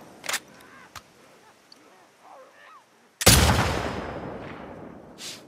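A single heavy gunshot in The Last of Us booms close and loud, then rings out in a long decaying echo, with a sharp crack before it and another near the end over faint ambience.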